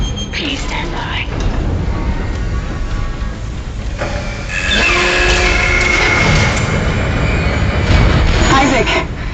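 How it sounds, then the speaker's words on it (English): A replacement tram car arrives in the sci-fi game Dead Space with a loud, rumbling mechanical roar and grinding that builds toward the end, while a voice speaks over the noise. "Replacing damaged tram car. Please stand by."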